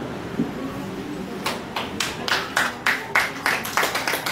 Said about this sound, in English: a round of applause for our debaters